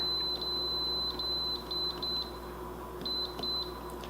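Air fryer beeping as it is switched on and set to 325, a series of short high electronic beeps in uneven bursts, quiet over a low background hum.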